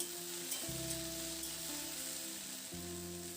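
Okra and potatoes fry in a pan with a soft, continuous sizzle, faint and close, while steady tonal notes hum underneath and no one speaks.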